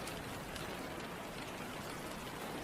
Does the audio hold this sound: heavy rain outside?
yes